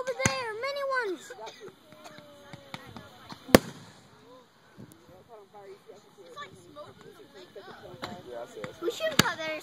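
Fireworks show over Lake Murray: sharp distant bursts and crackles pop at intervals, with one loud bang midway, while onlookers, including children, chatter and exclaim throughout.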